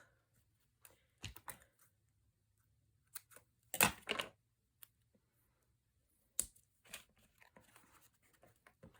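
Foam tape for a paper banner being handled and peeled, scattered sharp crackles and ticks against near silence, with one louder tearing stretch in the middle.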